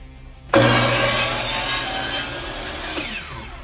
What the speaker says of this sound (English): I'm gonna cut these supports now in groups of 2